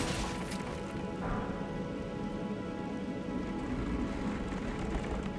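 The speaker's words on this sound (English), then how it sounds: "I need to add some rain on leaves to my background noise playlist." Steady rain falls on leaves in a continuous, even hiss, dense and close, with no clear breaks or other sounds throughout.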